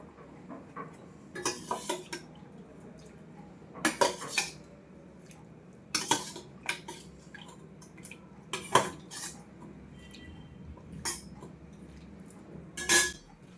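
Dishes and cutlery clinking on a plate as rice is mixed by hand, with scattered sharp clinks and scrapes at irregular intervals, close and moderately loud over a quiet room.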